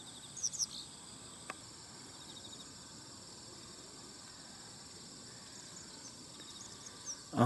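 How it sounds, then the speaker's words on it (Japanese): A steady, faint chorus of autumn insects trills continuously through a quiet morning riverside by a bridge in Yasugi, Japan, with a few brief bird chirps near the start. "秋の虫が鳴いてます。"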